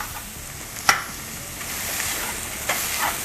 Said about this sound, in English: I can cut it right in the pan.